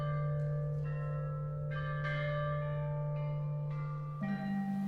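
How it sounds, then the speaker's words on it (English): A monumental set of ancient bronze bells from just after Confucius' death is struck one after another, each clear metallic tone ringing and overlapping the last, with a steady low hum sustained underneath. "played on totally wonderful things like this monumental set of bells that dated to just after Confucius' death"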